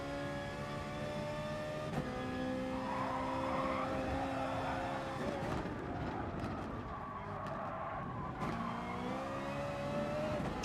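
Race car engine in Gran Turismo Sport, droning steadily at high revs, its pitch stepping down and climbing again through gear changes, with tire scrub underneath and no talk.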